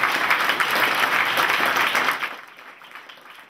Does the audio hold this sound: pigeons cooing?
no